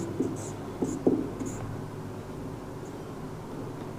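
A pen writes on paper in short, close scratchy strokes with brief pauses between them, quiet and steady, with no one speaking.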